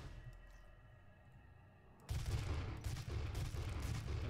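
Dense, sustained gunfire from the shooter video game DOOM 4 bursts in loudly after a quieter stretch of ambient hum, continuing as rapid overlapping shots to the end.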